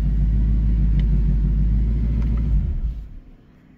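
A car engine idles with a steady low rumble for about three seconds while the car runs but will not move, then fades away quickly.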